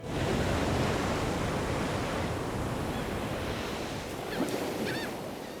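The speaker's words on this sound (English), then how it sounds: "all of those roiling waves hitting the boulders" Pacific breakers roll and crash on boulders along the Big Sur coast, a dense, continuous roar of surf with wind buffeting, loud and unbroken, faint bird cries near the end.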